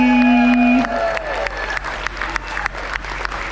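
A round of applause from a crowd, starting after a brief held tone and continuing as steady, moderately loud clapping.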